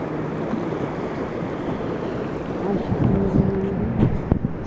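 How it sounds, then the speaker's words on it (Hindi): A fast-flowing stream swollen by the previous day's rain rushes steadily with a broad roar, and faint voices come through near the end. "ये देखो कितना तेज पानी चल रहा खड़ोली में, कल बारिश हुई थी।"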